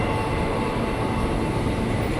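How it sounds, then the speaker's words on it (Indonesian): An INKA-built electric commuter train rumbles steadily as it departs Pasar Minggu station, a continuous loud mechanical roar with low rolling noise and no voices. "KRL Inka sudah berangkat dari jalur 2 stasiun Pasar Minggu"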